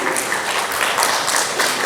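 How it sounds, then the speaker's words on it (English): Applause from a conference audience at an AI summit welcoming the next speaker, a dense, steady wash of many hands clapping for just under two seconds with no talk over it. "Let's welcome Sid with a big round of applause now that your tummies are full."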